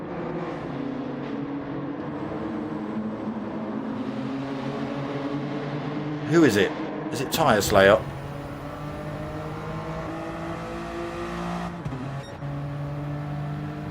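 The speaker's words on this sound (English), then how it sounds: "Who's put a rowdy exhaust on their car?" A Toyota Corolla GR racing in a sim league round at Lago Maggiore East, fitted with a rowdy exhaust, drones steadily with a layered engine tone beneath continuous excited commentary, and a couple of brief sharp bursts are heard midway.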